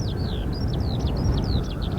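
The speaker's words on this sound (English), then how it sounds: "There's a skylark singing." A skylark sings over open farmland, a quick run of high twittering, warbling phrases carried above a steady low wind-like rumble, with no one talking.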